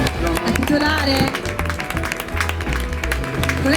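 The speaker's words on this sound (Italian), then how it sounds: "con un applauso" An audience at a Miss Riviera del Brenta beauty pageant selection, held at a hotel in Sottomarina near Venice, claps steadily and densely, with a voice talking over the applause.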